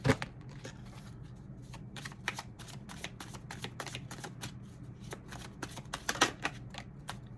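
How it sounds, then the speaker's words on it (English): Tarot cards riffle and snap in quick bursts as a deck is shuffled, with crisp papery clicks throughout and a few louder flicks near the end as a card is pulled, all close up and without any talking. "Spirit wants me to pull another card."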